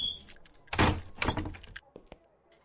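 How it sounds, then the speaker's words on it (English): A door opens in the Cyber Paranoia video game, with a couple of sharp thunks and a rattling scrape, followed by a few fainter clicks, near and fairly quiet. "I hear a door open."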